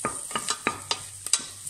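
Garlic and onion sautéing in a pan for a chicken asado siopao filling, with a soft sizzle under quick scraping stirs of a utensil, about six strokes in under two seconds.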